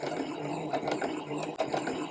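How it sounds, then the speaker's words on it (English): A home sewing machine stitches quilt block pieces one after another in chain piecing, a fast mechanical whirring close by with small clicks and pauses between pairs. "And then stitch onto the next pair. This is called chain piecing."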